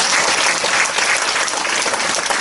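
A crowd at a graduation ceremony at a theological graduate school claps in loud, continuous applause that fills the hall and holds steady for a few seconds.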